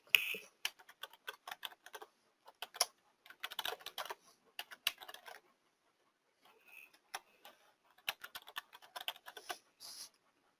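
Login credentials being typed on a computer keyboard: quiet, close key clicks in irregular bursts separated by short pauses, with no voices.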